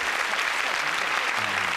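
Audience applause on a Taiwanese TV variety show: a steady, dense burst of clapping from a studio crowd fills the clip, with faint voices underneath.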